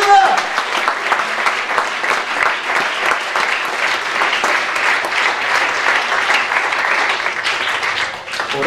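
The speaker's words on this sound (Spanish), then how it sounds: "Denle un aplauso al Señor" Church congregation gives a long round of applause, many hands clapping in a dense, steady patter up close, holding strong and tapering slightly near the end.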